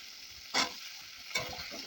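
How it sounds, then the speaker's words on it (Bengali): Cut stalks and potatoes tossed into hot oil seasoned with black cumin seeds, giving a faint continuous frying hiss with two brief louder rushes of sizzle as the pieces land and are moved, with no speech. "এবার এর মধ্যে কেটে রাখা ডাঁটা আর আলুগুলো দিয়ে দেবো।"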